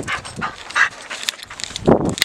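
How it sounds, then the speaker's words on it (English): A dog whimpers and yips in short bursts outdoors on a windy day, close to the microphone, with gusty background noise and no speech. "So yeah, this is my dog."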